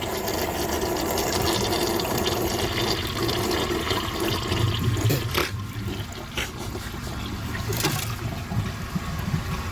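A toilet with a siphon jet flushes during a plumbing test, giving a continuous rushing, gurgling wash of water with a couple of sharp clunks partway through.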